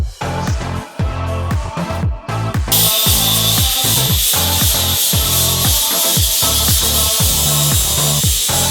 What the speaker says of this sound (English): I'm gonna grind this down like this and kind of see where we're at